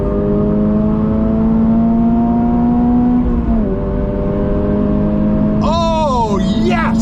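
A 2023 Toyota GR86 six-speed engine holds a loud steady drone at high revs, dips briefly, then climbs again. A voice talks over it near the end.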